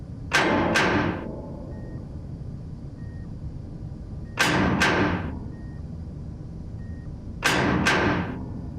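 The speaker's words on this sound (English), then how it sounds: "All of a sudden, he hears this knocking." Loud knocking on a spacecraft in orbit: three separate bursts of rapid hollow knocks, each a quick cluster of several raps, spaced a few seconds apart with near silence between.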